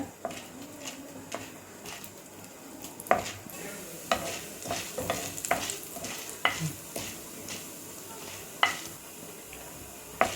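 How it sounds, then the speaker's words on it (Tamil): Urad dal frying and being stirred in hot oil, with a soft continuous sizzle beneath repeated close scrapes and clinks of a spoon against the pan, some of them sharp and loud. "இப்போ உளுந்து போட்டுக்கலாம். ரொம்ப நல்லா வதக்கிக்கோங்க."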